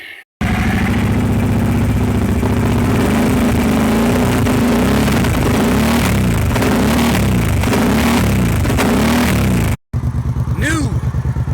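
A carbureted four-wheeler engine fitted with a supercharger runs loud and close, its uneven drone surging and faltering as it cuts out and comes back.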